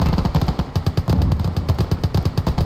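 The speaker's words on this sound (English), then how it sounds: "So my rifle grenades taking out the 221. We got grenades going out." Rifle grenades and gunfire in the Gates of Hell: Ostfront war game, a rapid run of loud, close bursts and reports repeating in a choppy rhythm for the whole stretch.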